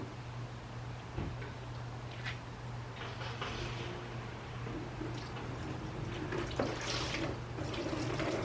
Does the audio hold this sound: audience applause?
no